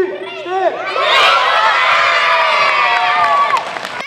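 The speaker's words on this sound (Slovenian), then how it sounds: "Takole navijaško, tekmovalno, predvsem pa pozitivno ozračje je vladalo v veliki športni dvorani" Children's basketball tournament crowd in a large sports hall cheers and shouts loudly and continuously, a dense wash of young voices with excited yelling.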